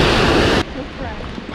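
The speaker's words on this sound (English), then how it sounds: "Our second of three waterfalls." Steady broadband rush of a waterfall beside a hiking trail at Bridal Veil Falls near Telluride, Colorado; the sound is loud and continuous, dropping abruptly to a softer, more distant roar partway through.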